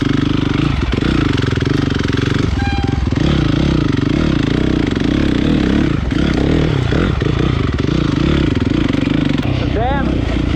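A Honda CRF 450 dirt bike with an HGS exhaust runs loud and close. Its engine holds a steady, rough, throbbing roar that swells and dips with the throttle, and a voice can be heard faintly in the background.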